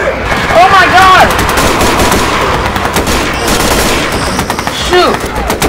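Rapid bursts of automatic gunfire in the video game Garry's Mod during a zombie apocalypse scene, loud and repeated, with game sounds and a shouting voice mixed in.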